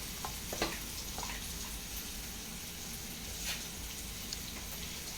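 Onion, tomato and mutton masala sauté in a pan with a steady, close sizzle and occasional soft scrapes or stirs, no talking.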